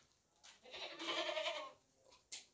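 A large, heavy male goat bleats nearby in a single drawn-out, wavering call, followed by a short quiet gap and a brief sharp noise.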